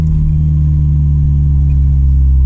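A loud, steady Opel Kadett Superboss engine with sequential fuel injection running close by, a deep even rumble with a slight pulsing idle.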